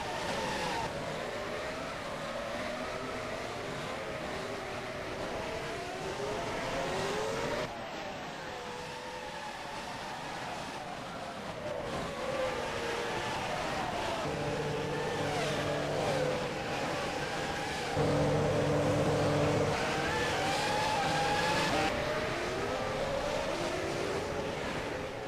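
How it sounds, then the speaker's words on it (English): Race cars lap the Monaco street circuit in the rFactor racing game, engines whining and shifting through revs continuously as several cars pass close together at high speed, loud and sustained throughout. "Bollier is still following him, heading into this Nouvelle chicane"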